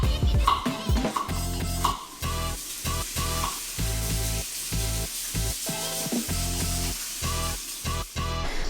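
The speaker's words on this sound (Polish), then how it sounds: "to już mi się podsmaża czosnek i cebulka" Chopped garlic and onion frying in olive oil in a pot, a continuous close sizzle and hiss heard under rhythmic background music.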